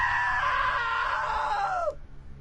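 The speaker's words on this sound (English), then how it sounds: "Now that was a great scream" A single long, loud scream from a character in What Remains of Edith Finch, holding steady for nearly two seconds before sliding down and cutting off abruptly.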